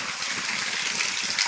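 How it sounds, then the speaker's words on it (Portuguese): Water gushes in a steady, loud rush from a small waterfall cascade near a house, a continuous bright splashing hiss with no talk. "uma cachoeira aqui, ó. Uma cascata"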